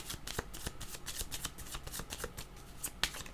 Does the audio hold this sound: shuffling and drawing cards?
yes